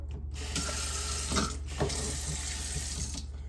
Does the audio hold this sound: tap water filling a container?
yes